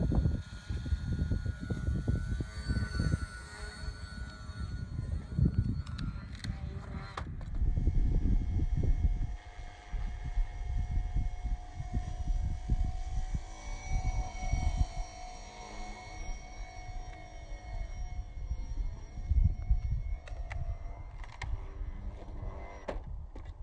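An RC flying-wing model aircraft in flight, with a steady whining electric motor and propeller tone over continuous rushing wind noise. The sound runs alone for the whole stretch, with brief gusty bursts.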